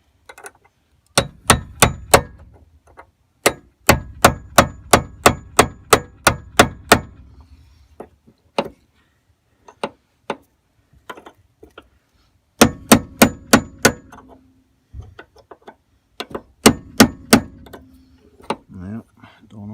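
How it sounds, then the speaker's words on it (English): Hammer striking a GM truck door hinge pin, ringing metallic blows in rapid bursts of about eight to ten hits, with pauses and single taps between, close and loud. "Yep, alright, I got a hammer. Let's see if it'll work."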